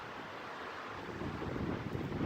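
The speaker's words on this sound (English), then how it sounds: "canoe's tough to steer, way too windy to fish" Strong wind sweeps across open water around a canoe on a fishing trip, a steady broadband roar that builds slightly louder toward the end, with no voices.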